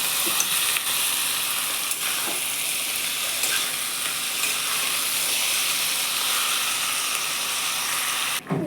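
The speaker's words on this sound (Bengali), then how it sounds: "চিকেন দিয়ে দিয়েছি, এইটাতে আমি এখন ভালো করে সাঁতলাবো" Chicken sautés with fried onions in a pan, giving a loud, continuous, close-up sizzle with occasional light stirring clicks and no voices.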